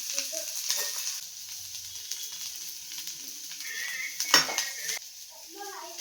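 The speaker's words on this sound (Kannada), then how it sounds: "ತೆಂಗಿನಕಾಯಿ ತುರಿನ ಹಾಕಿ ಫ್ರೈ ಮಾಡ್ಕೊತಾ ಇದ್ದೀನಿ" Grated coconut fries in a pan while being stirred, a close sizzle with scraping and metallic clinks of utensil against pan, faint voices in the background.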